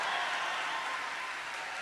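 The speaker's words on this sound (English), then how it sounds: "He gets a bigger cheer every single time, and he loves it" Audience at the Texas Youth Summit cheers and applauds Senator Cruz, a dense, even wash of clapping from a large crowd, sustained throughout the brief moment.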